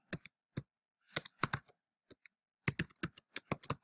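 Computer keyboard keys clatter in short bursts of quick typing, close and fairly quiet, with pauses between runs of keystrokes and no voices.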